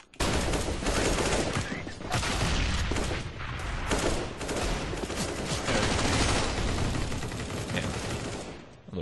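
Dense, loud gunfire from the video game Counter-Strike, bursts of rapid shots and crackling fire continuing almost without pause for nine seconds.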